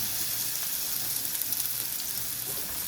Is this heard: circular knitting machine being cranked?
no